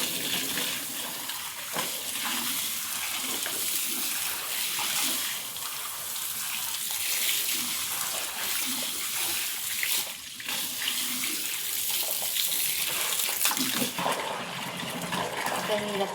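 Water gushes steadily into a container set out for a cow in a cattle shed, a continuous splashing fill that carries on for the whole stretch with faint background voices now and then.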